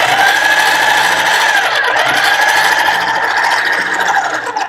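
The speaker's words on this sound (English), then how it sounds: "see what a beautiful sheet of smooth clay you're getting with this Ultimate Clay Machine" A hand-cranked Ultimate Clay Machine rolls a sheet of polymer clay with a loud, steady mechanical whirring and rattling hum, close by, continuing for several seconds before fading slightly at the end.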